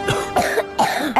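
Chesty, phlegmy coughing in a Hungarian cough syrup advert: several harsh rough coughs in quick succession, close and loud, with no talk over them.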